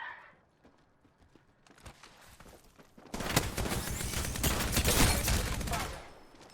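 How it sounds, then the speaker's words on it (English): Gunfire in the Apex Legends video game breaks out as scattered shots, then builds into a dense, loud burst of rapid automatic fire through the second half. "I'm under fire. Opening fire."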